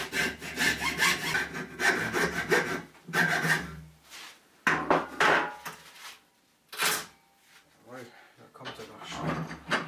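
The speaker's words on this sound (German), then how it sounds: "Als nächstes erfolgt das Zersägen des Schrubberkopfes" A hand saw cuts through a scrub brush head in close, loud bursts of rhythmic back-and-forth strokes, broken by short pauses and a couple of quieter gaps between sawing passes.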